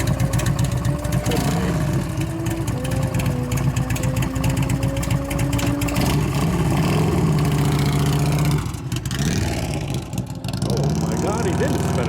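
A 2001 Gilroy Indian race motorcycle, a rebuilt land-speed bike, rumbles at a steady idle with a few rising revs. The engine runs loud and continuous, with a brief dip near the end, while voices talk over it.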